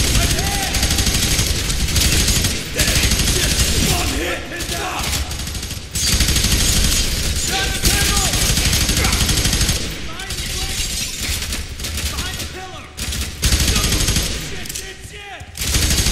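SMG fire in the video game F.E.A.R. 3, with loud sustained automatic bursts and explosions filling the mix and a voice talking over the fighting.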